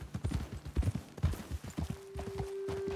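Horses' hooves clip-clop at a walking pace in Red Dead Redemption 2, a steady run of moderate hoof falls with a faint tonal hum entering partway through.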